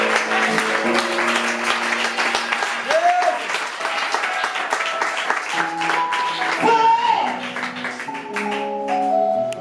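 A church congregation applauding the Lord: steady, sustained clapping from a large crowd fills the whole stretch, with sustained tones and a voice rising through it.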